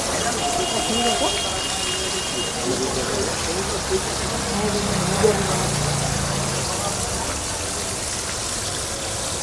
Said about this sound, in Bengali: এটা ভোলা মাছ ফ্রাই হচ্ছে